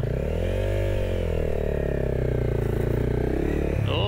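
A Honda motorcycle pulls away from a dead start on a slippery hill, its engine loud and close with a steady, rising growl that drops off sharply at the end, and no talk over it.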